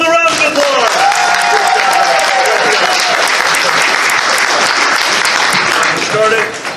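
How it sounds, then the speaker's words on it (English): Loud, sustained audience applause at an improv comedy show, a dense wash of clapping that holds steady for several seconds before tapering off at the end. "give them both a round of applause"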